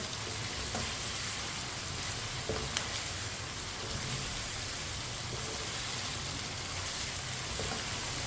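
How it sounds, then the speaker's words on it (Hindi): Chicken with chopped green chilies cooks in a pan while a spoon stirs it, giving a steady, even sizzle with soft scraping strokes throughout, close up and without talk. "2-3 मिनट के लिए पका लेते हैं चम्मच चलाते हुए"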